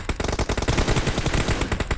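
Automatic gunfire in the mobile shooter PUBG Mobile during a team deathmatch, a fast string of loud, close shots firing in quick uneven bursts.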